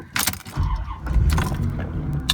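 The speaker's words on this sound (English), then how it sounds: "There you see that big V8 fires right to life." A 1992 Chevrolet Corvette coupe's LT1 V8 cranks and fires up, a short starter whir and key clicks giving way to a deep, rumbling catch as the engine settles into a steady idle close by.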